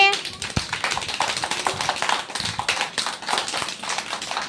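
Children clap their hands loudly together in a classroom during a story activity, a dense burst of overlapping claps running throughout, with voices mixed in.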